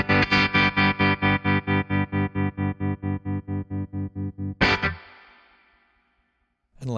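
A VFE Old School Tremolo guitar pedal with distortion: a distorted, chopped tone pulses in a fast steady rhythm for several seconds, then a loud strum rings out and slowly decays into silence.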